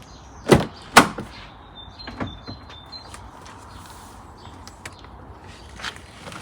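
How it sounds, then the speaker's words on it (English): Brake work on a Volvo V70, with two sharp knocks as a car door opens and shuts. A string of quick, faint squeaks and clicks follows as the brake pedal is pumped. No one talks. "let's go and pump the pedal"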